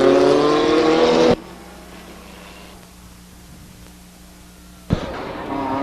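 Racing trucks at Stockton 99 Speedway roar loudly past at close range, drop away to a low distant drone for several seconds, then surge back in with a sharp loud burst.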